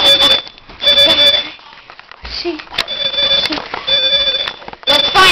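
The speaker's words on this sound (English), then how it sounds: "we are going to see what happens to Boom Boom when he hears the fire alarm" A fire alarm sounds in a home, loud, repeated high-pitched electronic beeps in pulsing bursts, with voices talking over and between them.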